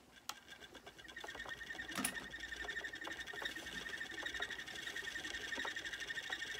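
A spinning wheel plying yarn from bobbins, making a quiet, steady whirring hum with light rhythmic clicks and taps throughout, close by and with no talking.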